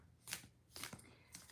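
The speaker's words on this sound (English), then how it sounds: "I've got my deck right here. I'm shuffling it." A deck of Star Tarot cards by Kathy McClelland is shuffled by hand close up, with three quick riffling bursts of papery flutter separated by short pauses.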